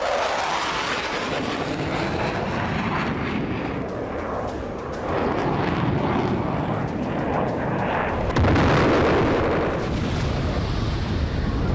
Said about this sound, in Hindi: यूक्रेन पर रूस लड़ाकू विमान से बम बरसा रहा है।